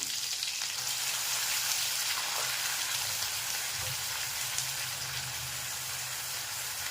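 Ground masala paste sautéing in oil for Maharashtrian patvadi rassa, a steady, close, even hiss of frying that holds at one level throughout with no voices.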